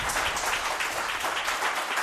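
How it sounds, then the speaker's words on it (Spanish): A studio audience on a TV show claps in a dense, sustained burst of applause, steady and fairly close throughout. "Pido un aplauso de la gente que está aquí."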